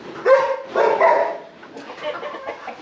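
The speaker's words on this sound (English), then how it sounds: "Now the dogs will start to bark" Dogs bark at a tropical garden home, two loud close bursts of barking early on, then fainter scattered yips and barks trailing off.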